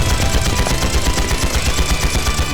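Rapid gunfire in the video game The Legend of Heroes: Trails into Reverie, a loud continuous burst of closely spaced automatic shots with no pause.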